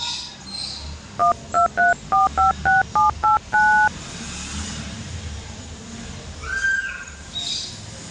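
A telephone is dialed with about a dozen crisp touch-tone beeps in quick succession, clear and close over outdoor ambience with birds chirping faintly, followed by a soft chirp and background hum.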